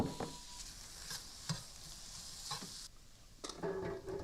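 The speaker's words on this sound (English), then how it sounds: "Start cooking those in a hot skillet." Chopped bacon bits sizzling in a hot skillet, a steady soft crackle with brief scraping stirs and clinks scattered through.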